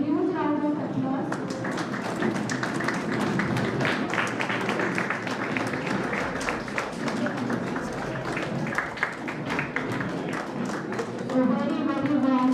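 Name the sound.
applause from audience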